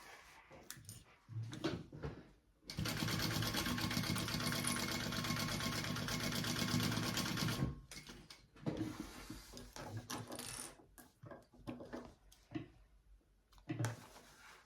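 A sewing machine bastes along the top seam of a fabric sling bag in one sustained close-up run of several seconds, framed before and after by shorter bursts and handling noises.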